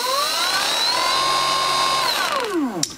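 A Transmagnetics 3kW generator (38V/57V/76V) spins at speed with a steady, loud, whining hum rich in harmonics. Near the end the pitch drops sharply as it winds down.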